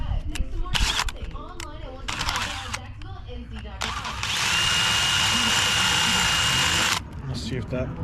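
A power drill enlarges a battery mount hole on a Jeep Wrangler Gladiator EcoDiesel. It whirs in a few short bursts, then runs in one steady three-second burst, with someone talking between bursts.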